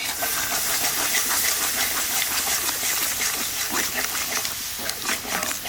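Sour curd going into a pan of dum aloo made with new potatoes on lowered heat, giving a steady close hiss and sizzle with faint crackles throughout.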